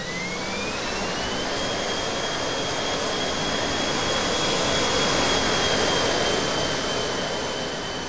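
Simulated Airbus A380 jet taking off in the RealFlight 9.5 RC flight simulator game, a steady, loud engine roar with a rising whine that holds throughout, with no talking.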